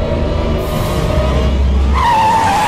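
Tyres squeal loudly as a car skids and pulls away in a Tamil film scene, with a low engine roar and then a rising screech close by.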